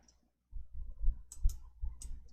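Mouse clicks while working in an Excel spreadsheet, a few sharp, close clicks spaced roughly half a second apart over a faint low background hum.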